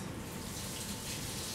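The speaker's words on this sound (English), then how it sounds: "One of our peppers fell on the floor. I'll just give it a quick rinse" Kitchen tap water running steadily while a pepper is rinsed under it, a soft, even faint rush with no talking.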